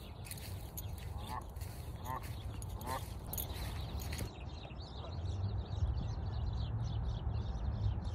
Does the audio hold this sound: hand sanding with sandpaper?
no